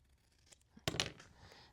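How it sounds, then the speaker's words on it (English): Scissors snip through paper while trimming out a printed paper word for a junk journal embellishment: faint rustling, then one sharp, close cut with brief crisp paper noise after, no talking. "And I'm just trimming it off."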